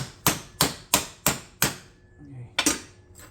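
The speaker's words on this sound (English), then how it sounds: "We'll hammer that down." Hammer blows strike a metal dust collection pipe for a Rockwell Delta 31-710 collector, giving six sharp ringing hits at a steady pace with a pause before the last one.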